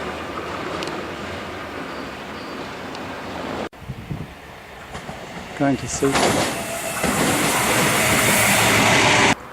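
A train rolls through a railway junction in Adelaide on the Seaford line, a broad rising rumble and rail hiss building loud in the second half after a brief cut, with a voice talking briefly near the start.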